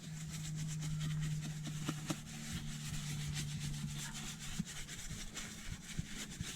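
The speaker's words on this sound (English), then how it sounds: "I'm going to agitate the entire surface with this brush" A brush scrubbing cleaner into a leather car seat in an Audi 5000 CS Turbo, a quiet, continuous rubbing swish with repeated back-and-forth strokes and faint taps, over a low steady hum.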